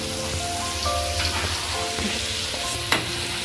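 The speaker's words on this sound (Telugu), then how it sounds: "ఆయిల్ ఆల్రెడీ వేడిగానే ఉంది కదా అల్లం వెల్లుల్లి పేస్ట్ అండి ఇది పల్లె నూనె కదా జాగ్రత్తగా వేసుకోండి పొంగుతుంది" Ginger garlic paste sizzles and crackles steadily in hot groundnut oil, a dense close frying hiss with a sharp spatter near the end and no talking.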